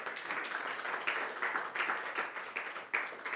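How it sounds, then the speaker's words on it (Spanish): Steady applause from an audience, a dense patter of many hands clapping at a constant level throughout, with no talking over it. "¿Por qué no le da un aplauso a Él?"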